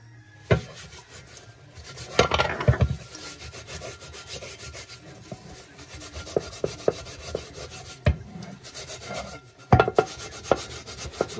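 A frying pan being scrubbed in a sink under a trickle of running water, without a metal brush, giving uneven rubbing and scraping strokes with occasional sharp knocks and clatters close by.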